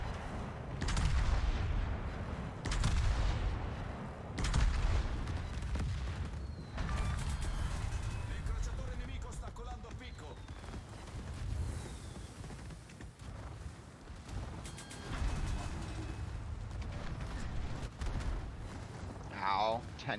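Armor-piercing naval gun broadsides in World of Warships, several heavy booming salvos with rumbling tails spread across the scene, heard under an excited commentator's voice.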